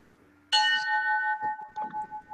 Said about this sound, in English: That was the Bell of Justice.